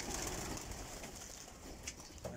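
Soft pigeon cooing, low and murmuring, carries through a noisy background with a couple of faint sharper chirps near the end.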